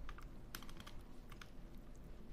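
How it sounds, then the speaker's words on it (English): Typing on a computer keyboard while logged into a browser: quick, light key clicks in an irregular run, close but quiet, with no voice. "now I'm just typing"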